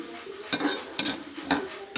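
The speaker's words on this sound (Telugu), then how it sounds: "ఆ వేడికి జీలకర్ర కూడా వేగిపోతుంది" Cumin seeds fry in a hot pan and get stirred, with four evenly spaced scrapes of a spoon against the metal over a faint background sizzle.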